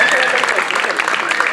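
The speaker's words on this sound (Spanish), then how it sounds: "un aplauso para Luciano." Applause from the audience at a punk rock concert in Ourense, Galicia, a brief loud burst of dense clapping and crowd noise.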